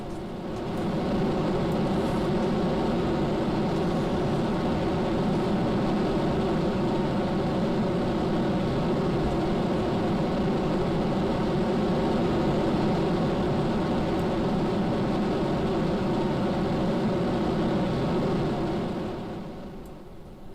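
Rocket engines roar at launch in the video game Kerbal Space Program, a loud, dense, unbroken rumbling roar that holds steady for about twenty seconds and then drops off at the end, with no talk over it.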